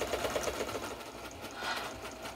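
A sewing machine quilting through a quilt with a walking foot runs steadily and close, a continuous rapid stitching whir with a slight change in pace partway through.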